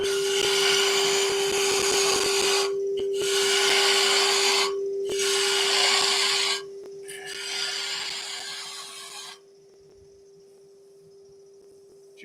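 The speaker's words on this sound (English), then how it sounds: "take away the waste with the bowl gouge" A bowl gouge cuts waste wood from a spinning piece on a lathe, making loud rough scraping bursts in several long passes over a steady motor hum, then the cutting stops.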